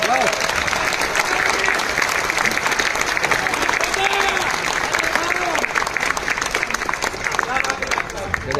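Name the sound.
audience applauding the speaker's team members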